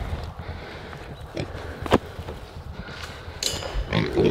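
Pigs grunting and snuffling in a farm pen, low rough grunts scattered over a steady outdoor background, fairly close and moderate in level.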